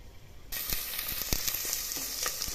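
Spices being fried in a pan for a cluster-bean pulao. A loud sizzle bursts in suddenly and then holds steady, close by, with a few stirring clicks and no speech.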